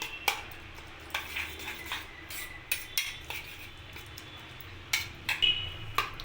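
Biscuit crumbs stirred together in a bowl with a spoon, a series of light clinks and scrapes at an irregular pace, quiet and close, with no talking.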